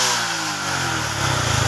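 Motorcycle engine running after a throttle position sensor adjustment, a short burst of steady mid-pitched revving that rises slightly toward the end, close and alone.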